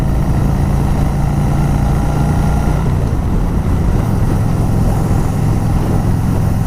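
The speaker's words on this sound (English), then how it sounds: "You hear the fan really going," A liquid-cooled motorcycle engine running with its radiator cooling fan blowing hard, a loud, constant droning whir with a steady low hum and no talking over it.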